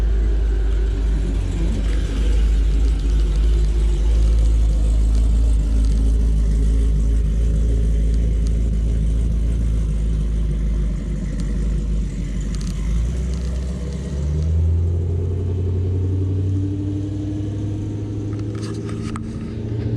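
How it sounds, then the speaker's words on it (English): A loud Pontiac G8 drag car rumbles with a heavy, deep exhaust throughout, its pitch shifting as it revs and rises near the end, close and continuous with no talking. "That was Doug Hilliard with his rowdy Pontiac G8."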